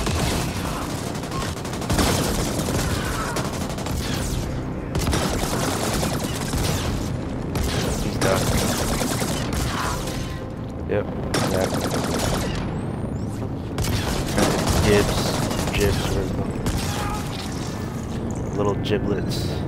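Weapons fire in the co-op shooter The Ascent, a constant heavy barrage of rapid shots and booms with game effects, running loud for the whole stretch while players talk over it.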